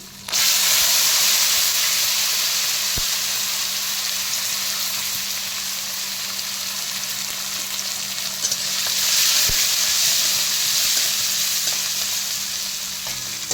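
Garlic sizzles in a hot pan for Nawabdari chicken, a loud, steady close-up frying hiss with faint stirring clicks, swelling slightly partway through and continuing without talk.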